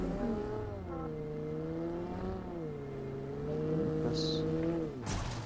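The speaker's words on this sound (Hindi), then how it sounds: "स्पाइडर को कॉल दिया जल्दी गाड़ी पे बैठ, और हम जोन के साथ ही साथ निकले गाड़ी लेके" Vehicle engine from PUBG, a steady droning motor with harmonic tones that rise and fall as the car drives continuously, loud and close with a brief higher whine near the end.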